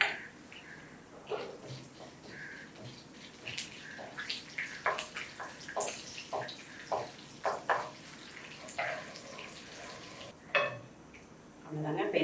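Chana dal, mustard seeds and urad dal sizzle and crackle in hot oil for a Tamil-style coriander rice tempering, with light popping and stirring scrapes, and someone speaking Tamil intermittently over the frying.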